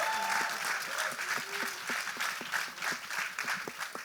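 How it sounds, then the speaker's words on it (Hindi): Audience applause fills a trailer launch event for Gustaakh Ishq, dense clapping from a crowd holding steady throughout, with scattered cheers and a faint voice underneath. "give it up for Dinesh sir, जोरदार तालियां"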